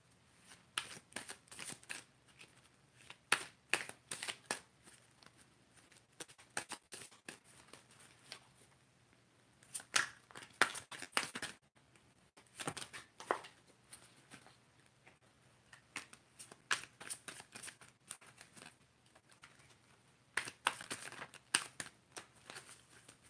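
Playing cards shuffled for a yes/no fortune reading, with soft, irregular riffling bursts and pattering flicks coming in clusters over a quiet room, close by and fairly faint, with no talking.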